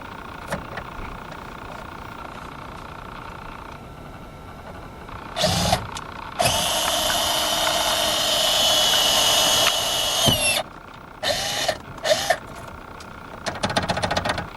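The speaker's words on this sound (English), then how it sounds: "Next, we want to drill a hole." A small power drill whirs in several bursts, one long sustained run in the middle and shorter starts and stops after, close by.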